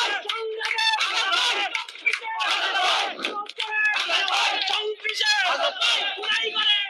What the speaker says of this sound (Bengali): হাসনাত ভাই শাপলা কলি বলে কিন্তু স্লোগান দিচ্ছে